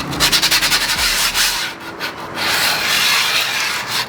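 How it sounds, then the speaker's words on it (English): Fresh grip tape on a new skateboard deck gets a light sanding, a loud, close, gritty rubbing that starts in quick rhythmic strokes and then becomes a longer continuous scrape, with no talking. "You're not doing a heavy sand on it anyway, it's just like a light one."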